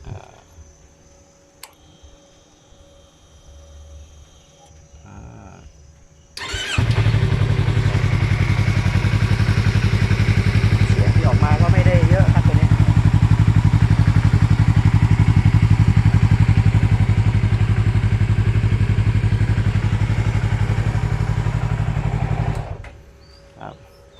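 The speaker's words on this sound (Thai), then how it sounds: "ตัวรถทีนี้มาฟังเสียงเครื่องดูนะครับตัวนี้" A big-bike three-wheeler motorcycle engine starts and idles steadily with a strong low rumble for about sixteen seconds, close by, then cuts off; some faint clicks and handling noises come before it.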